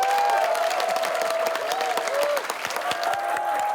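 Warm, sustained applause from a crowd follows a team's presentation on climate change and food, dense clapping with a faint tonal hum running beneath it throughout.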